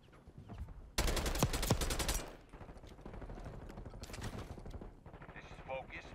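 Rapid automatic gunfire in Black Ops 6 multiplayer, a loud dense burst lasting over a second, followed by quieter scattered shots and game sounds in the background.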